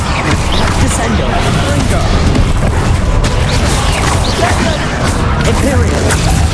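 Descendo spell impact in the video game Hogwarts Legacy, a heavy booming crash in the middle of loud, continuous combat noise with clattering effects and voices layered throughout.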